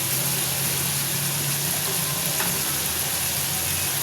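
Ground spices frying in a pan while making chicken macaroni, a steady broadband sizzle with faint stirring, close and continuous with no talk.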